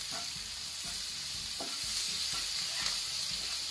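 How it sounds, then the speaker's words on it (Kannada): Ginger and garlic fry in ghee for a simple chicken curry, giving a steady close sizzle with rhythmic scraping strokes of a spoon stirring the pan about every half second, and no speech. "ಈಗ ಸ್ವಲ್ಪ ತುಪ್ಪದಲ್ಲಿ ಫ್ರೈ ಆಗಲಿ ಶುಂಠಿ ಮತ್ತೆ ಬೆಳ್ಳುಳ್ಳಿ."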